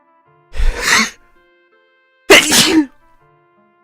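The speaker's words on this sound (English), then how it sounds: "I'm gonna sneeze." Two loud, close sneezes, each a sharp burst about a second long, separated by a brief quiet pause.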